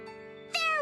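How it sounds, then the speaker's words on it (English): A cat meows in the Bravely Second video game. A steady tonal hum from the game's music runs underneath, then one bright, clear meow rises sharply near the end. "Meow! Meow!"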